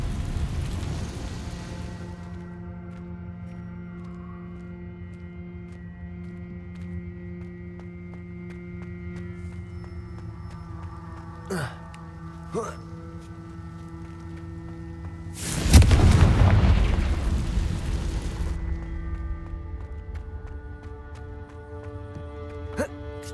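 A single deep, rumbling Confringo spell explosion from the Hogwarts Legacy video game bursts over a steady, droning game music score, then fades.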